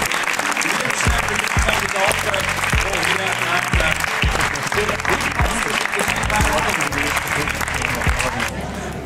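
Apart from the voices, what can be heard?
audience applause for game show contestants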